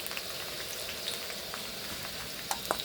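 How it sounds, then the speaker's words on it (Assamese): Lamb meat sizzles as it hits onions already fried in a pan, a steady close frying hiss broken by a few sharp pops and crackles near the end; no talking. "এতিয়া মই মাংসখিনি এড কৰিম।"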